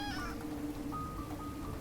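A pet cat gives a short meow at the start, then a faint second cry trails off over a steady background of indoor noise.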